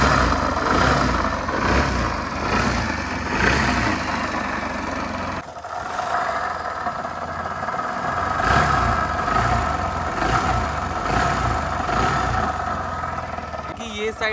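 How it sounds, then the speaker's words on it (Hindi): A running Access 125 BS6 scooter engine with a bad crank bearing gives a steady, rough mechanical drone and rattle, close and moderately loud, with a short break partway through and someone talking over it. "किक मार देता हूँ तो आप देख सकते हो बाइक स्टार्ट हो गई, पर एक अलग सा साउंड कर रही है गाड़ी"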